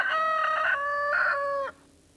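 A single rooster crows loudly and clearly nearby, a drawn-out cock-a-doodle-doo lasting under two seconds before it cuts off.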